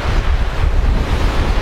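Ocean breeze and waves heard from a boat at sea, a loud, continuous rush of wind buffeting the microphone over a rolling surge of water.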